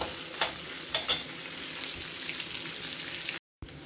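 Tempering spices sizzling in a hot pan for a Kannada-style aloo sagu: a close, crackling sizzle with a few sharp pops and spatters over a continuous frying hiss, with a brief gap near the end.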